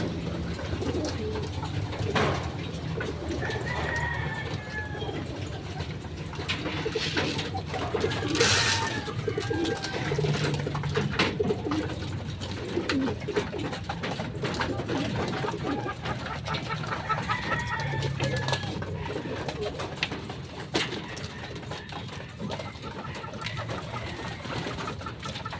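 Racing pigeons cooing in a loft, repeated soft throaty coos and warbles from several birds close by, continuous over a steady background murmur with occasional rustles.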